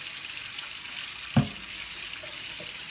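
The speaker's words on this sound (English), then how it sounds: "I'm gonna rinse it. Just rinse in water." Tap water runs in a steady faint hiss while fruit is rinsed for a Lao mixed fruit dessert, broken by one sharp clunk midway and a couple of softer knocks.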